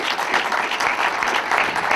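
Applause from a mosque congregation in Los Angeles for Brother Rasul, a continuous full room of hand clapping, close and fairly loud, with no talk over it.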